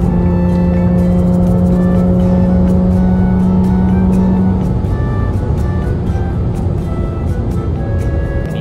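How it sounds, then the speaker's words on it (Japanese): Porsche 987 Cayman with a manual gearbox driven at speed on the Mihama circuit, its exhaust droning loud and steady with pitch climbing and dropping through shifts, close and continuous, no talk. "K マン君のエキゾーストとともにスピード感をお楽しみください。"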